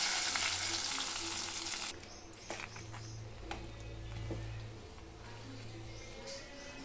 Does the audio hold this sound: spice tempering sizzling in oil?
yes